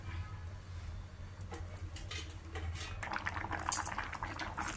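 Vermicelli upma in a pot on low heat, with soft bubbling and faint liquid pops over a low background hum. A few light utensil clinks join toward the end.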